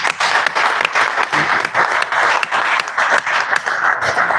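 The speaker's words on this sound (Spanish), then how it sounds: "Un aplauso para vosotros." An audience at a book presentation in Ávila applauds, a lively, close round of many hands clapping with fluctuating intensity and occasional louder individual claps.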